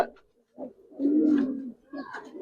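Giribaz pigeons coo in short low bursts, one longer rolling coo in the middle flanked by briefer calls, close and clear against near silence.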